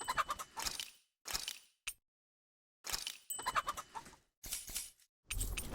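Chickens clucking in the Tales of Arise video game, several loud close bursts of clucks separated by short silences.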